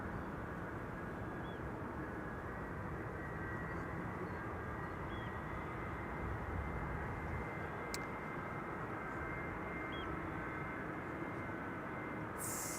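An Alpha Star Airbus A319 jet taxis at Amsterdam Schiphol, a steady distant engine drone and whine holding even throughout, with a faint clicking and no speech.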